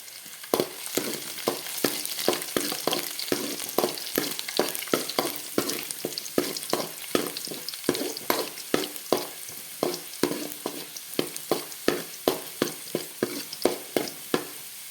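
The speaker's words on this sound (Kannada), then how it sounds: "ನೋಡಿ, ಈಗ ಎಣ್ಣೆ ಕಾದಿದೆ. ಈಗ ಬೆಳ್ಳುಳ್ಳಿಯನ್ನು ಹಾಕಿಕೊಳ್ತಾ ಇದ್ದೇನೆ. ಈಗ ಫ್ರೈ ಮಾಡುವ ನಾವು." Garlic frying in hot oil for corn fried rice, a steady close crackle and hiss punctuated by rapid, regular scraping strokes of a spoon in the pan, with no one speaking.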